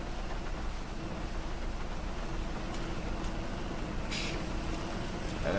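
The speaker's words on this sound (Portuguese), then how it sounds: "Tá chovendo, é." Rain falls steadily in the GTA video game, a constant hissing wash of drops with a faint low rumble beneath, even and unbroken, with no talk.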